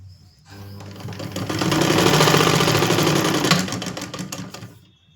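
A sewing machine runs steadily for about four seconds, stitching the side seam of a skirt with a fast, even mechanical whir that starts after a brief pause and winds down at the end; no one speaks.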